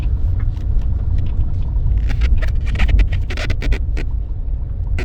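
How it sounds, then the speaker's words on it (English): A Mini rolling downhill out of gear gives a steady low road rumble throughout, with scattered light rattles and scrapes, nearby and continuous. "So I'm not in gear right now, I'm just rolling."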